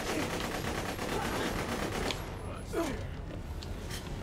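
Rapid bursts of gunfire in the video game Borderlands The Pre-Sequel rattle continuously up close, with mechanical clanks and a thump as a player talks over the action.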